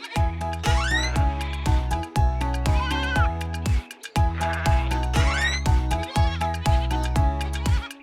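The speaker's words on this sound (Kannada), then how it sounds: "ಕುರಿಗಳನ್ನ ಹೊರಗ್ ಬಿಡುವಾಗ ಮಾರ್ಕ್ ಅವುಗಳನ್ನ ಎಣಿಸ್ದ" Sheep bleat repeatedly in wavering cries over a steady rhythmic musical backing, loud and close throughout.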